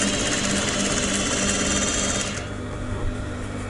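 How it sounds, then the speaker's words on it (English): A sewing machine stitches fabric with a fast, steady mechanical whirring and rapid rattling, loud and close, then eases slightly softer near the end. "Now, as I'm sewing, I prepare first in advance."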